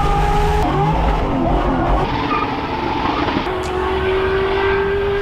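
Engine of a NASCAR-inspired Ford F100 truck, a loud steady rumble with a broad roar running throughout, close by and without speech, a faint tonal whine rising near the end.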